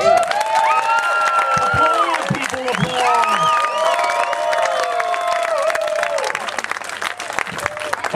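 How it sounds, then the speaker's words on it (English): An audience at a gong show breaks into loud, sustained applause for the first-place winner, with cheers and whoops rising through the clapping. "Will everyone please applaud the first place winner?"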